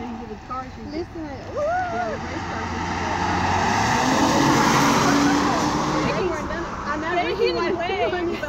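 Fast car running at about 77 mph on a NASCAR race track, a steady roar of engine and road noise swelling midway, with people talking over it.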